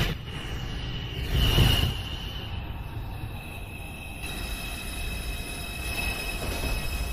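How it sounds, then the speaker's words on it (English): An NYC Subway 2 train arriving at the elevated 215th Street station rumbles in with a loud pass and squealing wheels, followed by sustained high brake squeal as it slows, with no voices. "Train approaching the station."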